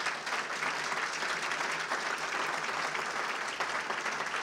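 An audience at a regional civic address in Torrance breaks into loud, sustained applause, a dense unbroken wash of clapping that fills the whole stretch.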